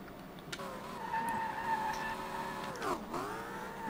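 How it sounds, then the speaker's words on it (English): A car drifts in the SLRR racing game, run in reverse direction on the Minami course; a steady, droning engine note holds throughout, with faint tire skidding, and the pitch dips sharply near the end before rising again. "Let's do some MINAMI drifting"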